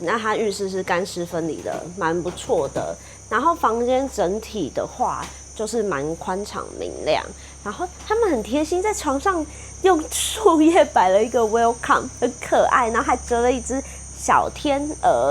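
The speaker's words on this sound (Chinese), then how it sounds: "有听到虫鸣鸟叫吗？" Insects chirp steadily in a Malaysian rainforest around a hotel room with a small balcony, a constant high trilling bed beneath someone talking closely throughout.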